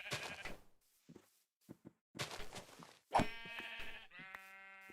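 Minecraft sheep bleat several times in quick succession, clear and close against a quiet game backdrop, with a longer drawn-out bleat near the end.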